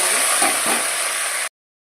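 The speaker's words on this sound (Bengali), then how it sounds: "এবার এই মাছ ভাজার তেলের মধ্যে আমি ফুলকপিগুলো একটু ভেজে নেবো" Cauliflower pieces fry in oil left over from frying fish, a loud, close, continuous sizzle that stops abruptly after about a second and a half.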